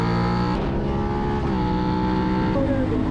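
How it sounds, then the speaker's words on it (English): A group of sport motorcycles accelerating onto the 15 highway, a loud, close, layered engine roar with pitch climbing and dropping through several gear shifts. "there's a whole group of bikes getting ready to jump on the 15 right now"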